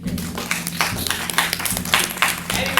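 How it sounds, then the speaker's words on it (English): Audience claps for the good king during a performance of Sophocles' Oedipus the King, a fairly close ragged burst of clapping over a steady low hum, with irregular louder claps throughout. "A round of applause, please, for the good king."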